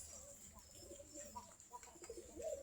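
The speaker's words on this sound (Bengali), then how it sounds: "দেখেন মর্দা পুরুষ কবুতরগুলা কীভাবে ডাকে দেখেন" Male pigeons coo at their loft in light rain, a string of soft, low, throaty coos recurring faintly and close over a quiet background hiss.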